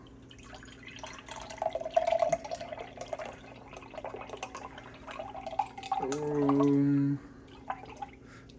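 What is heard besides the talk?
pouring bone broth into a cup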